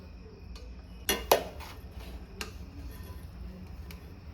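Chicken biryani is served from a pot onto a plate with a metal utensil, giving a few quiet, scattered clinks and two sharper knocks over a low background hiss, with no talk.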